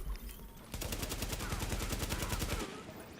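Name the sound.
AK rifle gunfire in a video game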